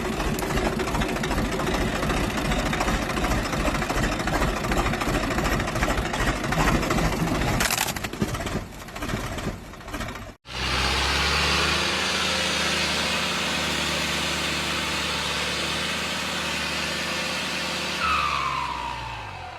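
Several tractors drone and labor while pulling a combine whose wheel is sunk deep in mud, a steady rough engine roar that cuts out abruptly and resumes as a different engine hum, with no talk.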